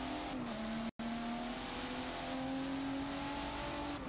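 Race cars in a sim racing game at Sebring run toward the finish line, a steady engine drone with rising and falling pitch as the cars come around a turn, heard alone with no talk.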